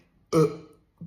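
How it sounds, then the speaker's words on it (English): A man gives one short, loud, close burp after swallowing air, then a brief quieter throaty sound follows a moment later. "I'm going to inhale some air and after that you will have some burps"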